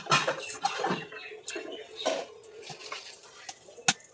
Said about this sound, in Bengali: তাই পালং শাকটা কুটে নিচ্ছে